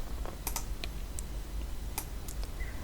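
Keystrokes on a computer keyboard while entering a spreadsheet formula, a handful of quick, light clicks in small clusters, close and fairly quiet over a steady low hum.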